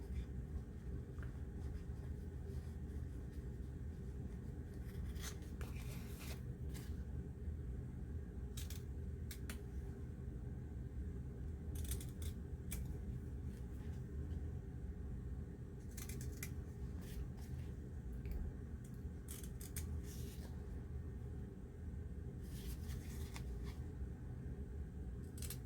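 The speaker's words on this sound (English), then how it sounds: "Then here, again, I'm going to cut some of this bulk out." Scissors snip away excess bulk from a craft tag's folded-over edge, a series of short bright cuts in bursts over a steady low hum of background noise.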